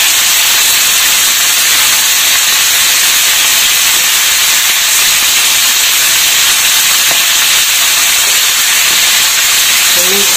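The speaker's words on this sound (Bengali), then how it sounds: "ডিমগুলোকে ভেজে নিচ্ছি" Loitka dried fish eggs frying in hot oil in a pan, a loud continuous sizzling hiss held steady and close from start to finish.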